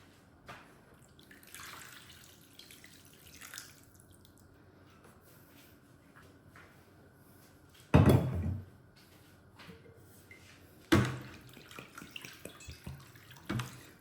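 Water is poured into a pot of flavored rice for mandi, a quiet kitchen with light drips followed by two short, loud splashing pours.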